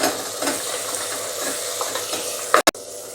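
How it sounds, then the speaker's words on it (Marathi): Onion and tomato sautéing in a pan for vegetable pulao, a continuous soft sizzle with light stirring, close by, ending in a brief sharp clatter of a utensil; no one speaks. "आता आपण यात टोमॅटो टाकून घ्यायचा आहे आणि तोही व्यवस्थित परतून घ्यायचा आहे"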